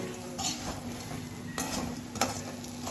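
Food mixed with amchur in a bowl, heard as faint scraping and light clinks of a spoon against the dish, with a few sharper taps spread over a quiet, steady background.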